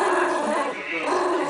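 A dog guarding its bone gives a close, continuous low growl with a strained, whiny edge throughout a brief moment.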